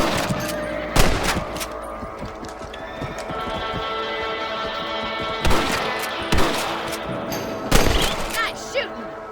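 Rifle shots ring out while hunting rabbits around farm crops in Red Dead Redemption, several sharp cracks spaced over a steady backdrop of hoofbeats and ambient game noise.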